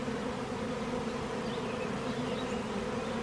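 Honey bees buzz in a dense, steady drone at a hive with a laying worker, the swarm marching up toward where their old hive stood; the hum holds level and close throughout with no voices.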